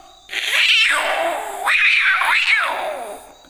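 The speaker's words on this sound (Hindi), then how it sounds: "कैसे झगड़ा कर रहे हैं देख रहे हैं ना, कैसे झगड़ते हैं बिल्ली" Cats yowl and caterwaul in rising, wailing cries, three long drawn-out howls close by, loud and alone.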